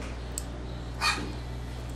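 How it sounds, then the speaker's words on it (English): A single short dog bark rings out in the background around the midpoint, faint against a steady low hum and quiet room tone, with no talking. "big mouth dog in the background"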